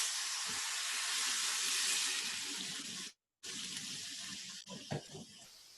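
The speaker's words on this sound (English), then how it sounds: "I'm adding hot water" Hot water pours steadily into a pot of lentil and rice pilaf on the stove, a loud broad hissing rush with a brief break and sizzling splashes near the end.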